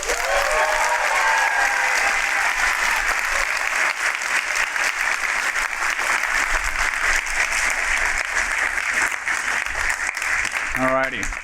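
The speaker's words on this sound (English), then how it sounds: "Can we please give a round of applause to my wife?" An audience applauds steadily for a man's wife, a dense, sustained wash of clapping at close range that holds at full loudness for about eleven seconds, with some voices mixed in underneath.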